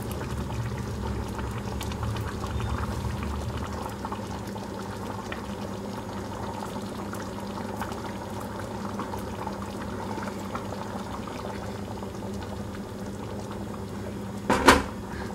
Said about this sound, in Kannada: ಈ ಕೈಮಾ ಉಂಡೆಗಳನ್ನ ಹಾಕ್ಕೊಳ್ಳೋಣ